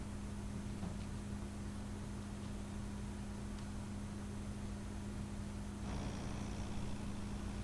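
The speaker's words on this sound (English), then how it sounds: "So I kept this in real time just to show about how long it took to drill out each one." A power drill bores out brass screws on an old toolbox, a continuous motor drone with a steady low hum that shifts slightly in tone partway through.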